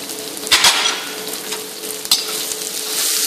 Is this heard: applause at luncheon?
no